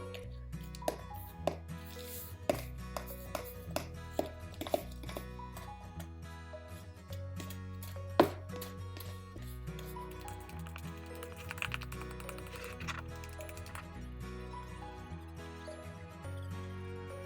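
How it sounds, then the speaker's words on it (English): A fork mashing and whisking butter and sugar together in a bowl, quick irregular tapping and clicking strokes against the dish, fairly quiet, over a steady musical background without talk. "I'm going to use a fork and I'm going to mash it together, then I'm going to kind of whip it in sort of a whisking motion"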